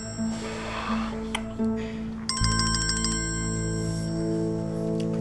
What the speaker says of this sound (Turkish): Baba telefonu çalıyor.